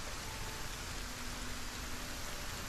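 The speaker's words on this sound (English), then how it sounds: "Listen to the rain." Steady rain in the video game Solarpunk, a soft, even wash of rainfall with no distinct drops, faint and continuous throughout.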